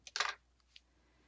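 Scissors cutting paper to straighten a photo album page, a short cluster of crisp snipping bursts followed by two faint, isolated clicks in a quiet room.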